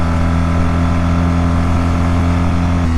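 BMW GS adventure motorcycle engine held at a steady high rev around 5,000 RPM, a loud continuous droning hum with no variation in pitch, close and alone.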